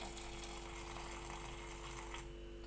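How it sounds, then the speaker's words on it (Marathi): Milk pouring into a mixer jar already holding banana, Bournvita and oats, a steady liquid trickle and splash running for a few seconds before tapering off near the end. "तर मला पाहिजे तेवढंच आता दूध ओतते"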